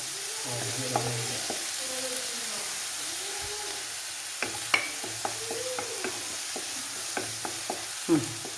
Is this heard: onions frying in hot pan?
yes